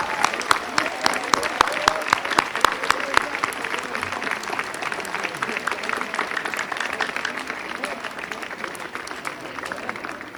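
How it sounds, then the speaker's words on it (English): Graduation audience applauding the families, with sharp individual claps over a steady crowd background and voices murmuring underneath, sustained throughout. "Give your families the big round of applause of the night."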